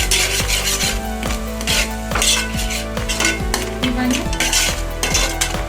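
Beaten eggs being stirred with a metal utensil in a pan for egg fried rice, repeated scraping strokes in a steady rhythm over a faint sizzle and a low background hum, close and fairly loud.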